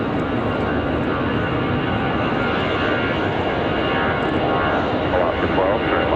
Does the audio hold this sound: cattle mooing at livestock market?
no